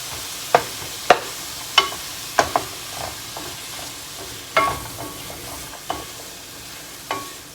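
Celery and other vegetables cook down in a pan with a low, steady sizzle, punctuated by about ten sharp taps and scrapes of a spoon stirring at irregular intervals; no talk.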